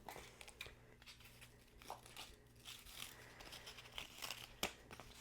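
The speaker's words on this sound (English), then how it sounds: "we'll just roughly kind of cut the tape here" Kinesiology tape being cut into pieces with scissors, faint crinkling and snipping sounds in irregular bursts, close and quiet.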